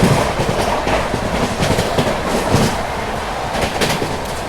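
Secunderabad Duronto Express runs at speed over the track near Tughlakabad, a continuous rumbling roar with rhythmic clickety-clack of wheels over rail joints, heard steadily from inside the moving train.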